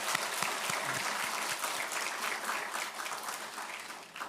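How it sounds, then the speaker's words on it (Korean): Church congregation clapping in praise after a Sunday sermon, a sustained, even patter of many hands that carries steadily and tapers off at the close. "한 번 더 영광의 박수 올려드립시다."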